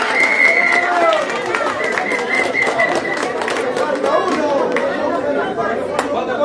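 A carnival crowd at a municipality building applauds amid lively chatter and cheering, the clapping steady and loud throughout under a dense layer of voices.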